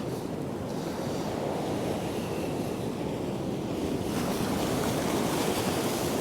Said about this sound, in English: Some big waves just coming out.